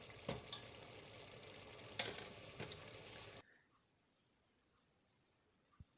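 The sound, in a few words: stirring chicken jalfrezi in a pan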